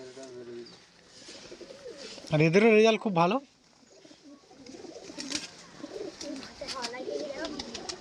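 Golden pigeons cooing close by in a loft, one loud rolling coo burst in the middle and softer warbling coos scattered around it, with someone talking over parts of the clip.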